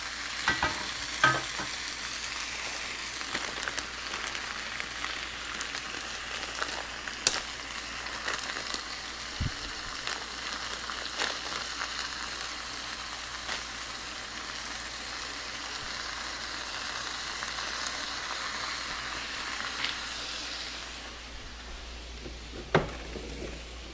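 Chicken stir fry with garlic and ginger sizzles steadily in a hot pan, a dense continuous frying hiss with occasional sharper crackles and clatters, fairly close and without talk.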